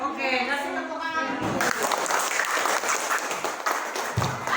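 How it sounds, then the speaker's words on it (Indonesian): Applause from students in a classroom, a dense wash of clapping that starts abruptly after a brief spoken prompt and carries on steadily for several seconds, with a voice over it near the start. "Oke, kasih tepuk tangan."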